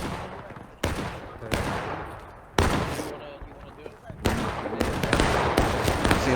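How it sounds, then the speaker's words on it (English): Musket and rifle volleys in a War of Rights battle, Civil War era, several sharp broadband bursts at irregular intervals with sustained crackling fire between them, moderately loud and distant-to-mid range. "We're shooting at it."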